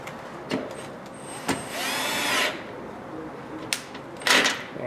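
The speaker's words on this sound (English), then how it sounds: "we're gonna go ahead and use a low setting on my little electric screwdriver here" Small electric screwdriver on a low setting tightening oil drain plug or pan bolts on a 6.2L Hellcat Dodge Challenger or Charger, with several short whirring bursts between quiet pauses, close by.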